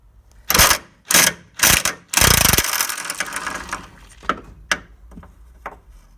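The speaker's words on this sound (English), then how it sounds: "I've got an extension all the way out here for my impact gun." An impact gun on a long extension with a 15mm socket removes bolts on a Ford Focus 1.6 diesel engine, giving several loud close bursts of rapid hammering followed by lighter clicks and clanks of tools.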